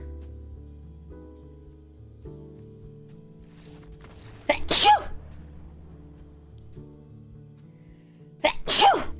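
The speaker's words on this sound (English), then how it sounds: "I'm gonna sneeze." Two loud, sharp sneezes ring out a few seconds apart over a low background hum, close to the microphone.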